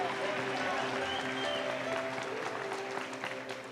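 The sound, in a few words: church congregation applauding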